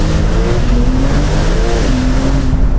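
A Brabus-tuned Porsche 911 Turbo S launches hard from a standstill, its engine roaring loud and close with a steadily climbing pitch as it accelerates.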